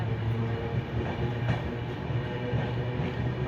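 An express train pulls away from Mahasamund railway station in India after a two-minute stop, a steady low rumble of wheels and carriages rolling on the rails, loud and continuous with no talk.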